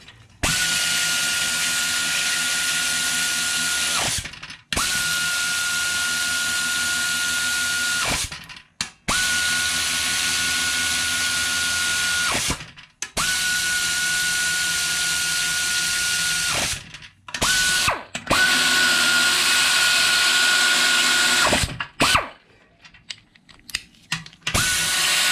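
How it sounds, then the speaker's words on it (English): A Snap-on FAR25A 1/4 inch air ratchet runs in long, steady whirring bursts separated by brief stops. An air compressor is connected, and the sound is loud and close. "Now we'll try out the snap-on FAR 25A."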